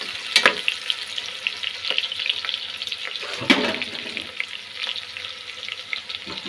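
Ingredients for chicken biryani fry in a pan, giving a steady close sizzle with a few louder crackling bursts and stirring scrapes, with no voices.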